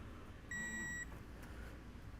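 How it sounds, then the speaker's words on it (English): An electronic torque wrench, set for tightening a rifle's barrel nut, gives a single clean half-second tone beep at the set torque, faint and close in an otherwise quiet room. "This will beep and let me know"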